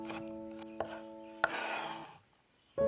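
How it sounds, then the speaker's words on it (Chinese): Knife chopping scallions on a cutting board, a few sharp, separate close taps with a small clatter and short pauses between them. "再切点葱花"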